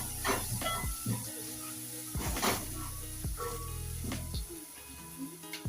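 A pot of Kenyan minji peas stew sizzles and hisses softly as it is stirred, with scattered scrapes and bubbling bursts under a faint background tone.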